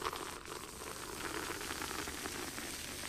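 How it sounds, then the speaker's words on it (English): Water boiling and sizzling on the very hot glass of a halogen bulb, a steady dense crackling hiss that holds at an even, moderate level throughout. "That's easily enough to boil water."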